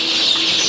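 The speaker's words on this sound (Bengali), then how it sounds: "দেখছেন মুরগি কীভাবে পানি খাচ্ছে।" A chicken gives a short, close cluck while drinking water, a single brief call with nothing else around it.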